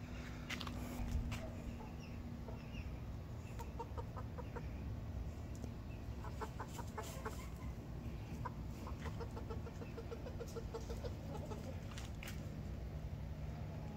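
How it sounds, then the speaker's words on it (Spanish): Mapuche chickens and roosters cluck and murmur at a distance over a steady outdoor hiss in Chile, with a few sharper calls scattered throughout. "Los gallos y las gallinas mapuches."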